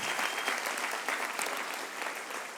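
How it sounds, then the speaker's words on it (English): Church congregation clapping in a round of applause for volunteer servant leaders, a continuous even burst of many hands across a large room, lasting a couple of seconds without talk. "Can we give a round of applause to all the servant leaders?"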